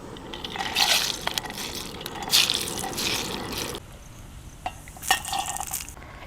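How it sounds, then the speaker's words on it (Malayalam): Cashew nuts frying in hot oil in a large pot for fish dum biryani, a bubbling, watery sizzle with stirring bursts that rise and fall, then quieter scattered crackles near the end. "അപ്പോൾ നമുക്ക് കശുവണ്ടി ഒന്ന് വറുത്തെടുക്കാം."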